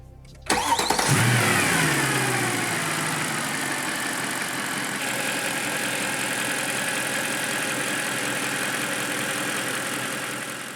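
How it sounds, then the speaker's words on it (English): A Mercedes-AMG M156 V8 engine starts with a quick burst, then settles into a steady, smooth idle that hums on evenly and fairly quietly. "The M156 is the quieter engine on idle."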